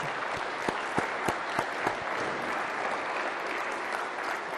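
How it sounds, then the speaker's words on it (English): A crowd at a foreign policy address applauds after a national anthem performance by an Army sergeant, a broad, steady wash of clapping with a few louder nearby claps standing out early on. "Let's give a round of applause again to Sergeant First Class Chris Strange"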